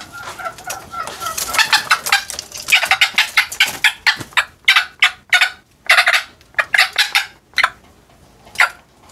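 Close-up clucking and squawking from a bekisar hybrid hen, a green junglefowl cross, at a poultry farm, with a burst of rapid calls followed by sharp, spaced single squawks.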